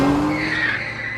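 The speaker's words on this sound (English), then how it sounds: "a car screeched to a stop in front of us" A car's tires screech to a sudden stop close by, one short, loud, harsh squeal over engine rumble.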